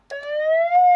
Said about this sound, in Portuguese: ele tem as sirenes aqui, ó